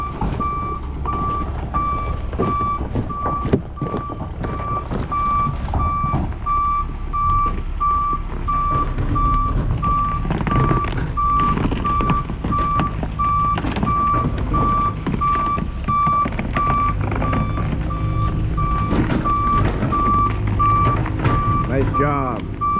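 A dump truck reverses into a soil removal site with a steady, evenly spaced backup beep repeating throughout, over a loud continuous engine rumble, while people talk nearby.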